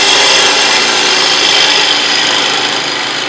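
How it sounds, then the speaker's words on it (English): A wood lathe turns a two-piece wooden yo-yo, making a loud, steady rasping hiss of cutting and rubbing that runs without a break and eases slightly toward the end. "I'm gonna stop my lathe and see how that works."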